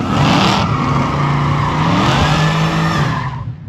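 A race car launches on a bye run at a drag racing event, its engine roaring loud and steady with rising pitch while tires squeal, the sound holding strong throughout before easing slightly at the end.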